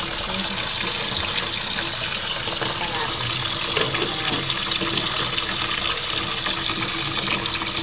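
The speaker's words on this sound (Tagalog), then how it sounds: "Naglagyan na po ako ng tubig" Tap water gushing steadily into a cooking pot to make mami noodle soup, a continuous loud rush lasting throughout with some faint background voices.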